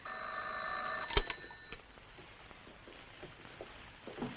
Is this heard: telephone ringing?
yes